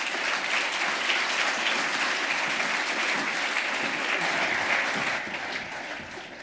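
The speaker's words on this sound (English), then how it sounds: "Please give them a round of applause." Sustained applause from a conference audience at the opening plenary of an annual conference, dense and steady for about five seconds before tapering off slightly at the end, with no speech over it.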